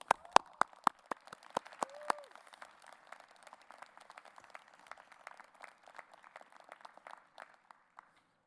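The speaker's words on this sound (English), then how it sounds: "Please join me in recognizing the class of 2021 with a round of applause." Faint, sparse clapping from a small commencement audience at Simon Business School, a few sharp nearby claps at first, then thin scattered patter that trails off.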